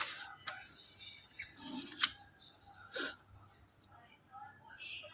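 A sheet of paper is handled during a worked algebra lesson, giving a few quiet, brief rustles and crisp clicks spread across a faint background.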